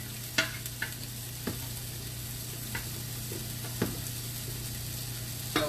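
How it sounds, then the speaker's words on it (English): Greens stirred in a sizzling pan, a steady close frying hiss with about seven soft scraping stirs at irregular intervals, no talking. "I'm stirring greens"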